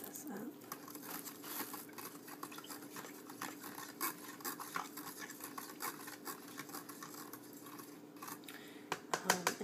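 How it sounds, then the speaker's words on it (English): A fried chicken tender mixture is stirred in a bowl for cooking, with quiet, close, soft scraping and crinkly mixing strokes repeating unevenly and a few sharper taps near the end. "Okay, mix this up."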